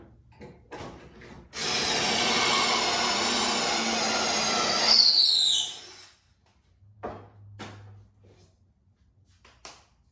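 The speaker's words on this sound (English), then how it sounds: "so we'll drill through and make sure it looks good" A drill whines steadily through a 2x4 for several seconds, boring a pocket hole, the pitch rising slightly before it cuts off, followed by scattered knocks and handling clatter.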